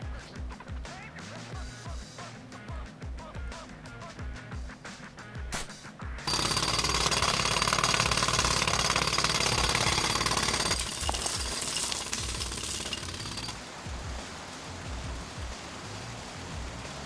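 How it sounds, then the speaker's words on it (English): In the TMNT: Mutants Unleashed video game, a hole is drilled and hammered out. A rapid jackhammer-like rattle opens, then gives way to a loud, sustained roaring grind that eases partway through and continues to the end. "I need more time to finish hammering the hole!"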